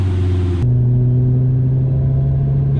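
A Lamborghini Gallardo's engine hums at a steady, moderate pitch on a gentle warm-up drive, a loud, low, continuous drone that drops slightly in tone early on, then holds even.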